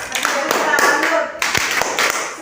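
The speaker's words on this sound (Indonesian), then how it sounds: "Ibu minta kalian bisa tepuk salut untuk Benyamin." Classroom students clap a rhythmic salute, sharp sets of claps in a patterned beat, loud and close, with children's voices chanting along between them.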